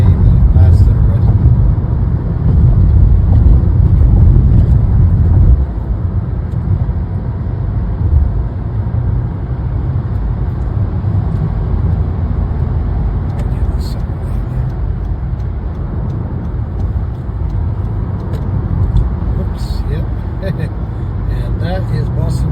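Car traffic on a busy Boston road heard from inside a moving vehicle: a continuous loud low road rumble and engine drone under someone narrating, with the noise easing slightly partway through.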